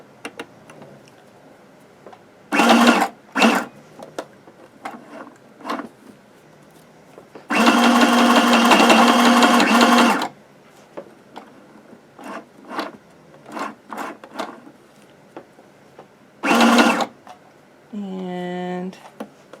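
A sewing machine runs a straight stitch across the top of a patchwork fabric tag in one steady burst of about three seconds, with brief shorter runs and handling clicks around it and a voice speaking near the end.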